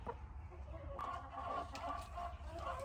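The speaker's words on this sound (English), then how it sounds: "there are 2 chickens in here." Chickens cluck softly nearby in a few short, uneven bursts over a low background rumble.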